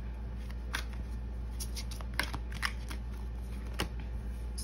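Oracle cards being shuffled by hand in a quiet room during a tarot reading, with soft riffling bursts and several sharper card snaps scattered across a few seconds, close and fairly quiet, with no talking.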